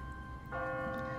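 A single church bell in a video game strikes partway through and its tone rings on, sustained and resonant over a low background hum.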